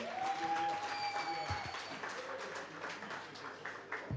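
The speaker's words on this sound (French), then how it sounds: "Avec vos applaudissements renouvelés," An audience at a union congress during the vote count claps in sustained applause, fairly distant and moderate in level, with a faint tone and some background hall noise.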